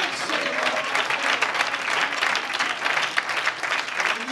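A church congregation claps hands during an evangelist's preaching service, a dense, steady wash of many hands close and loud throughout, with a few sharper individual claps poking through.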